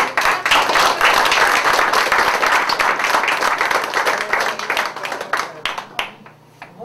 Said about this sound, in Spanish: le vamos a dar un fuerte aplauso a nuestra directora